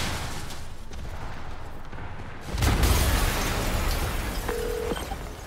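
In the game Spider-Man Remastered, a sudden loud explosion bursts in partway through, followed by a heavy rumbling roar that slowly fades, with a short electronic tone near the end.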